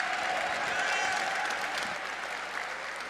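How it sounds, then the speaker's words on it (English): Sustained audience applause at a charity gala, a dense wash of many hands clapping that holds steady at moderate volume and eases slightly toward the end. "Big round of applause for everyone here."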